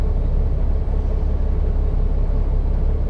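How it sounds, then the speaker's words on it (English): An old standard-transmission truck with aftermarket pipes rumbles along at a steady low pitch, a deep continuous drone with road noise and no speech. "It goes. Sounds like a real truck."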